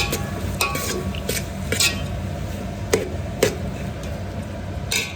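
A spoon stirs egg pulao in a pot, giving a steady low bubbling bed broken by scattered sharp clinks and scrapes against the metal, close by, with no talking.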